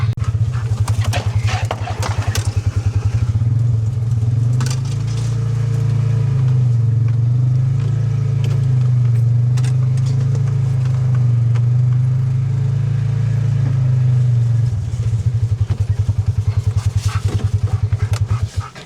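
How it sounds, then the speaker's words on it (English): A car rolls slowly down a rural track toward a corn feeding spot. The engine drones low and steady, and faint crunching and bumps come through from start to finish. "we're gonna drive down in there a minute"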